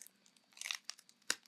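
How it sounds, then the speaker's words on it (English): A cracker crunches and is chewed close to the mic in a few quiet, irregular crisp bursts, the last bite the sharpest. "So I have my cracker, and that's where I'm going to munch on"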